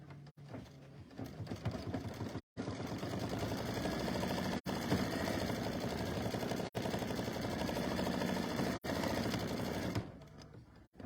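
An embroidery machine sewing a tack down stitch runs in a loud, steady mechanical whir with a rapid needle rhythm. A few brief stops split it into runs of about two seconds each, and no one speaks.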